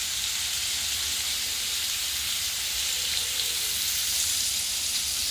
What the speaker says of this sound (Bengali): এখন পনিরটা ভাজছি আমি